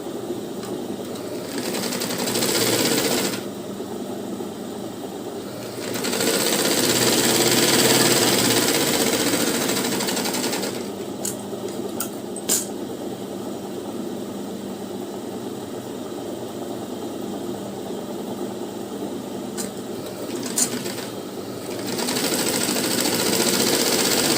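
A sewing machine stitches a blouse lining in bursts, its mid-pitched motor whirring for several seconds at a time between pauses, with light clicks in the gaps.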